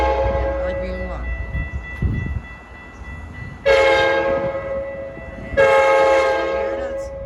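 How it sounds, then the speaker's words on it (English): A passenger train pulls into a station and sounds its horn in two loud, sustained multi-tone blasts, preceded by rumbling rail noise of the approaching train. "2205 to Big Timber is now arriving"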